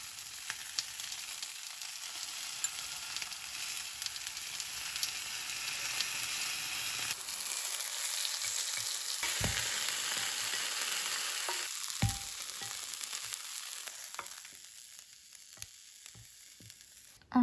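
Cabbage coated in cornstarch sizzles steadily as it browns in a pan, a dense, close frying hiss with occasional louder crackles and clinks, easing off toward the end, no talk.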